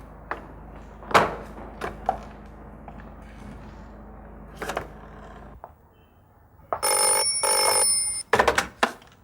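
A telephone bell rings loudly in two bursts near the end, preceded by scattered knocks and soft room sounds.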